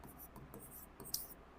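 A brief stretch of handwriting during a Hindi class lesson, with quick soft pen strokes on paper, close and quiet, ending in a sharper scratch.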